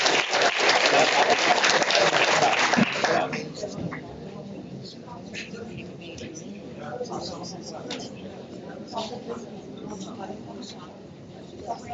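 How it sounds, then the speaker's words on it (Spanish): Loud audience applause fills a conference hall at the opening keynote of an international One Health symposium, dense clapping for about three seconds before it drops to a softer murmur of room noise and light talk. "Uma grande salva de palmas."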